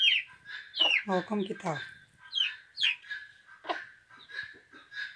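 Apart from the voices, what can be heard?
hen clucking with chicks in henhouse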